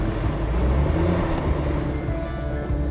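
Range Rover SVAutobiography climbing a desert dune, its engine a steady low rumble with a constant droning hum, close and fairly loud for a few seconds without speech.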